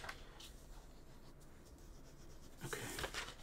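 A pen colors on paper during a futuristic gun drawing, soft close scratchy strokes in short bursts, faint and intimate, busier toward the end.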